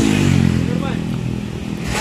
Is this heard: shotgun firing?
no